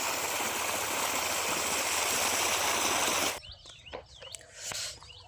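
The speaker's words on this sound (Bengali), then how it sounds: "এই দেখো, দেখেছো জল বেরোতে থাকছে।" Water gushes out steadily into a farm field for watering onion plants, a loud continuous rush that stops abruptly partway through. Faint outdoor sounds and bird chirps follow in the quiet.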